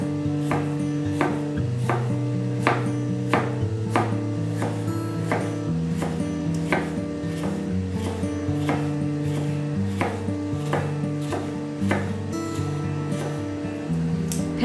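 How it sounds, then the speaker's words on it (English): A knife slicing a small sweet pepper on a cutting board, with steady, evenly spaced sharp chops repeating close up under background music, and no talking. "slice one small sweet pepper"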